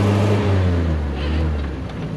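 The engine of a 1965 Land Rover Series IIA drones low and steady while driving under acceleration, a close, continuous rumble with strong low harmonics that holds through the short stretch.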